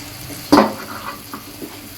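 A spoon stirs tomato paste into hot oil in a pan while cooking fish fry biryani, one sharp scrape and a wet sizzle up close, then a few softer scrapes and stirs.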